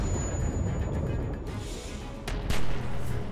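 Gunfire in The Walking Dead video game: a couple of sharp, loud shots burst out in the second half over a busy game soundscape.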